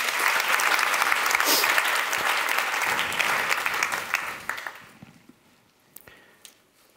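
An audience at a literary event gives loud applause for about four seconds, then the clapping thins to scattered claps and fades out.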